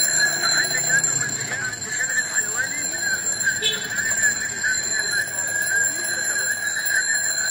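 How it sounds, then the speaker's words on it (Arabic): An electronic alarm clock rings continuously in shrill, steady tones through the whole stretch, with a person talking over it throughout. "هو ده المنبه اللي هيصحيك والله وانت نايمه."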